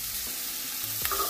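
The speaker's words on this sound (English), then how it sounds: "So we'll let these peppers and onions continue to cook." Peppers and onions fry in a non-stick pan with a soft, steady sizzle and a light scrape of stirring near the end, close and quiet, no voices.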